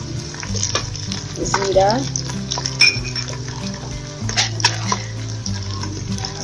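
Whole spices frying in oil in a pot for yakhni pulao, a steady sizzle with metal spoon scrapes and clinks as they are stirred, under a brief spoken word.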